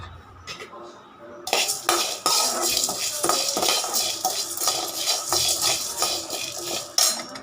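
Lentils, chana dal and coriander seeds dry-roasting together in a pan for sambar, stirred with a spoon that scrapes and rattles steadily against the metal, close and fairly loud after a quieter start.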